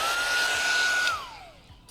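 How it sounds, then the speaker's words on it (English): A heat tool blows a steady, loud whoosh over ink on a mixed-media piece, then spins down with a falling tone about halfway through, leaving a faint hiss. No voices. "now we're going to heat set this."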